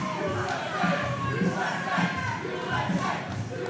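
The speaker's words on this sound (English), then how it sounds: "Crowd strongly behind the Brooklyn Juggernaut." A crowd at combat-sport weigh-ins cheers and shouts in a steady, loud roar that holds throughout, with chanting voices rising and falling.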